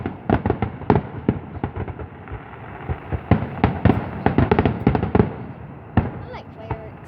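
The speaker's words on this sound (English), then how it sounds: "I like fireworks." A rodeo fair fireworks finale pops and crackles in a rapid, dense barrage of sharp bursts, some loud and close, with voices talking underneath.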